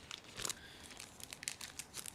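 Plastic bag packaging crinkles faintly in short, quick bursts as cut interior pieces from a lowered car are packed away.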